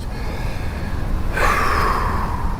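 A person takes a deep breath, a soft airy intake rising around the midpoint and holding steady as a breathy rush, close and alone with no talking.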